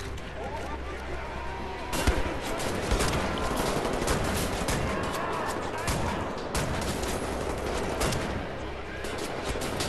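Repeated heavy weapon blasts in Wolfenstein: The New Order, sharp loud shots at irregular intervals over continuous combat noise, with someone talking in between.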